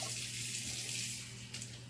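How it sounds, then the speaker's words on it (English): Water running steadily from a tap into a container, a close, even rushing flow lasting about two seconds. "We're pretty close on the water, so we're just going to add a little more"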